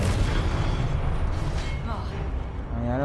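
Confringo explosion spell cast in the video game Hogwarts Legacy, a dense, rumbling blast that roars continuously with crackling debris, overlapped near the end by a voice.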